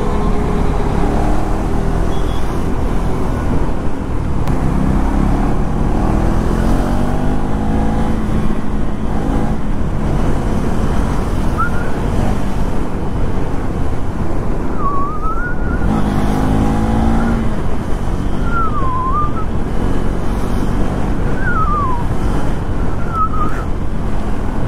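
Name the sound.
KTM Duke 390 motorcycle riding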